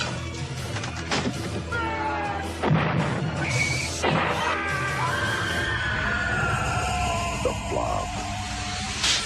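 Loud, chaotic scene of crashing impacts and booms mixed with shrill screeching and screaming cries, dense and continuous throughout.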